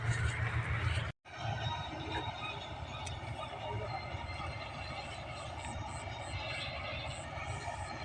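A steady low engine drone from a harvesting machine in a paddy field runs continuously nearby, briefly cut out near the start, with a constant mechanical hum throughout.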